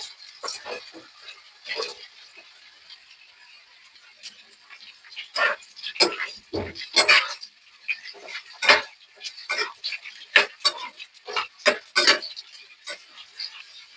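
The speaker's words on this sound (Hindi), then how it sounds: "तेल गर्म हो चुका है, अब हम इसको इसमें फ्राई कर लेंगे" Pieces of banda yam root fry in hot mustard oil in a pan, giving a steady crackling hiss broken by many sharp pops and clinks of utensils on the cookware throughout.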